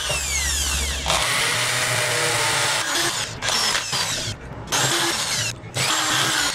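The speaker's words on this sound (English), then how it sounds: "Drill. After that, you'll drill another hole right next to it" A power drill bores a hole while a DIY hammock slackline grip is being made, first revving with a steady whine, then grinding through the material in sustained loud stretches broken by brief dips.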